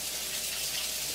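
Cold tap water runs steadily over boiled potatoes in a strainer, a loud, unbroken splashing rush.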